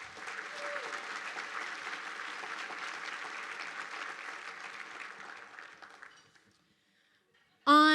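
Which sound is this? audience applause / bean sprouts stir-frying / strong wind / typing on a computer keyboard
audience applause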